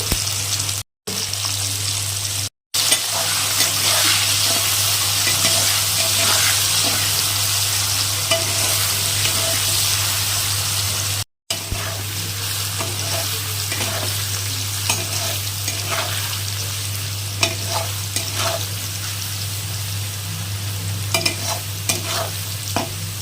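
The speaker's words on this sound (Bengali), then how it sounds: "তেল গরম হয়ে গেছে, আগে আলুগুলো ভেজে নেব" Potatoes fry in hot oil in a home kitchen while being stirred, a steady close sizzle with scraping spatula strokes and a constant low hum beneath, broken by a few short dropouts.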